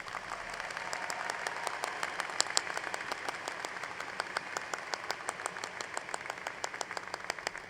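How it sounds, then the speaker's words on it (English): An audience at a graduate school commencement ceremony claps steadily, with many sharp individual claps distinct over a softer, distant wash of applause in a large hall. "let's give them a big round of applause."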